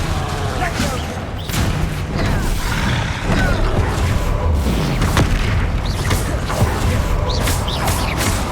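Confringo blasting spells in Hogwarts Legacy combat erupt as repeated loud booms and crackling impacts over a dense rumbling battle din, with a voice calling out spells.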